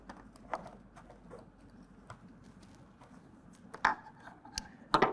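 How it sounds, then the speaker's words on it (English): A pair of scissors cuts a Husky Liners DRT fender flare liner on a 2020 Ram 2500, making sparse, faint snips and crisp clicks scattered at irregular intervals, with a couple of sharper close snips near the end. "we're going to cut that in place with a pair of scissors"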